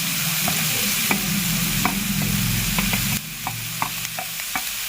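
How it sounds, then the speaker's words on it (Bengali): Fried rice with beans and chilli stir-fried in ghee over high flame, sizzling steadily and close with repeated scraping strokes of the spatula against the pan. "পুরো হাই ফ্লেমে করতে হবে ফ্রাইড রাইসটা, নাহলে কিন্তু টেস্ট হবে না।"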